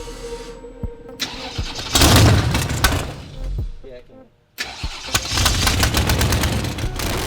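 A Buick Regal drag car engine cranks, catches and fires up with a loud bark, briefly dips, then settles into a rough, loud running roar close by, with voices mixed in.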